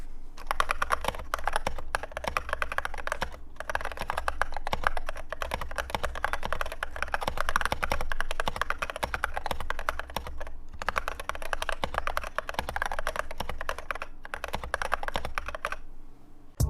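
Continuous rapid typing on a custom-built keyboard with 136 keycaps: dense, close, clattering keystrokes with only brief pauses, no talking.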